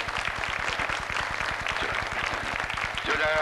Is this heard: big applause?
yes